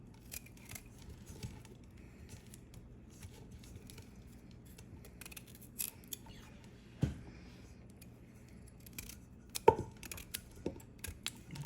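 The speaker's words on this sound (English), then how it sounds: "Cut the stem thin because it would take longer to cook" Scissors snip woody vegetable stems for cooking in a home kitchen, a series of faint, sparse crisp cuts scattered across quiet background with a couple of sharper clicks.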